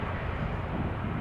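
A Ryanair Boeing 737 landing at Amsterdam Schiphol Airport with thrust reversers deployed, a dense, broad, rumbling roar that stays steady and loud throughout.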